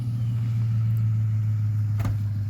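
A Ford F-150 pickup's engine holds a steady, loud low drone as it strains to pull a downed tree, with a brief knock or clatter near the end.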